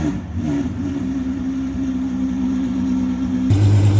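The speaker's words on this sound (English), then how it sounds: "Man, the throttle is touchy. All right, I'm gonna let it warm up a little bit." A car engine warming up with a touchy throttle holds a steady, close mid-pitched hum, then shifts to a deeper tone near the end.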